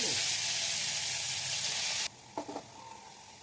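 Tomatoes, curry leaves and tamarind hiss and sizzle loudly in hot oil for about two seconds, then the frying drops to a quieter crackle with a few soft clinks and stirring sounds.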